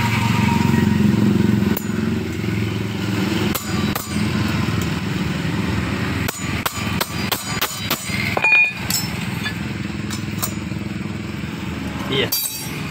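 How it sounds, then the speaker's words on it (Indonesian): A hammer taps an L bolt on a motorcycle front disc brake, with a series of sharp metallic knocks, some in quick clusters, over a steady low background hum. "Usahakan tetap tokok, ya. Supaya tidak meleset dia, ya."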